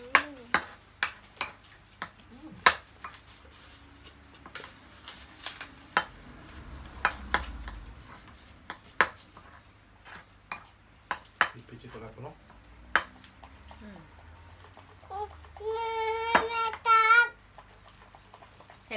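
A spoon clinks and scrapes against a dish while scooping rice at a home mealtime with a small child, a series of sharp close taps scattered throughout, with a voice and faint talk in the background.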